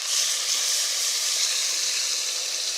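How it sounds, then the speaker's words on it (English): Salted meat frying in oil for couscous, a loud, continuous close sizzle with a bright, even hiss that never lets up. "fry it with some oil for about 20 minutes"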